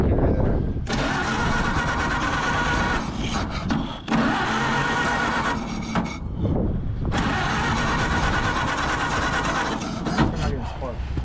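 A long-stored 1931 Ford Model A barn find with a stuck engine is cranked on its starter in long, loud, grinding stretches that pause briefly between tries, heard up close without it catching.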